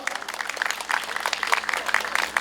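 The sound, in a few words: audience applause for two union branch leaders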